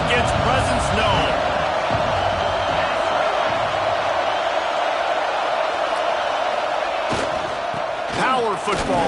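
A football stadium crowd roars steadily and loudly throughout, a dense, continuous wash of cheering beneath a commentator's voice.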